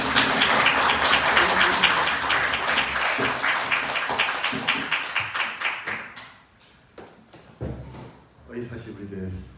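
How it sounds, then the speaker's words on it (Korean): A church congregation at a Sunday worship service claps loudly as a missionary pastor comes forward: a dense burst of applause for several seconds, then tapering into scattered individual claps. "나오실 때 큰 박수로"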